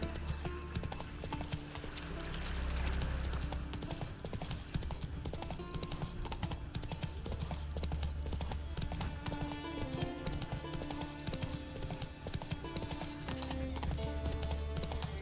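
Horse hooves galloping in The Witcher 3, a steady rhythmic clip-clop running throughout over game music, with an occasional whinny.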